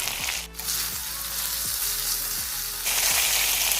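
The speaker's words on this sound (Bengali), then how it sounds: "এবার আমি এখানে অ্যাড করছি আদা রসুন বাটা। তো এবার এটাকেও ভালোভাবে ভেজে নিতে হবে" Ginger garlic paste frying in a pan beside boiled potatoes for a rohu fish curry, a steady loud sizzle with repeated scraping stirs about once a second, close and alone with no talk.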